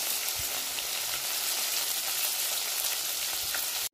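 Fish pieces fry in a pan for a fish masala, a steady dense sizzle crackling close and even throughout, cutting off abruptly at the very end.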